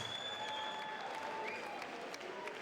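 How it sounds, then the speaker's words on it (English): A boxing crowd at a UK fight applauds both boxers after the bout, a sustained wash of clapping from a distant audience with faint cheering mixed in. "could we please have a big round of applause for both of our boxers?"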